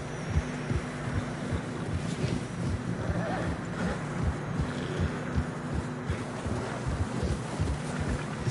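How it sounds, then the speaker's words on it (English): In the video game Red Dead Redemption 2, horses plod through fresh snow at a steady walking pace over a continuous low wind-like rumble, with a faint whinny now and then in the background. "Horses are getting tired."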